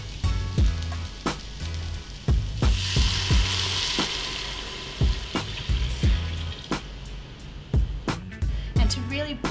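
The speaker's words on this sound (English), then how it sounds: "Okay, time to add in the beef stock." Beef stock poured into a hot pan of browned aromatics for a pho broth, giving a steady loud sizzle and bubbling with repeated clinks and taps of utensils throughout.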